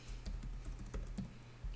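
Numbers are typed on a computer keyboard as a quick, irregular run of close, soft key clicks with brief pauses, heard alone.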